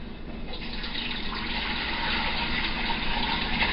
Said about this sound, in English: So I'm going to pour it in the strainer.